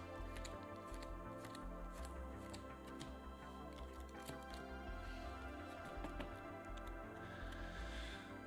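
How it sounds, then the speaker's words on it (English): A deck of counter cards from the Marvel Champions card game being shuffled at a tabletop, giving a steady run of soft, rapid riffling clicks and flutters for several seconds with no talk. "And then we can shuffle the counter deck back up."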